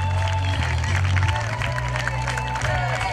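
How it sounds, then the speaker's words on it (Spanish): An audience at a local beauty pageant election in Salango applauds and cheers in a dense, continuous wash of clapping and crowd noise, with voices mixed throughout. "Vamos con esos aplausos"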